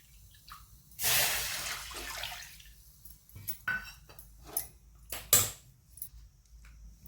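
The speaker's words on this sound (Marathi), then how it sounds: "आपण हे कढई ठेवलेले आहे याच्यात एक वाटी पाणी घालत आहोत" A cup of water tipped into a wok of cooked vegetables, a brief loud splashing hiss followed by quieter drips and light metallic clinks.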